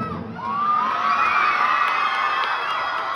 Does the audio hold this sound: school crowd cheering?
yes